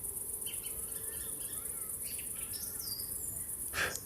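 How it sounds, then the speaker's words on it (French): Small birds sing in scattered short chirps and trills at night, mixed with a steady bed of insect and cricket buzz, with one brief louder rustle near the end. "moi, je me fie beaucoup à ces oiseaux-là qui chantonnent"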